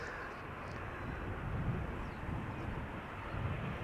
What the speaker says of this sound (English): This is KLM Flight 644, arriving from New York, JFK, 787-10 Dreamliner.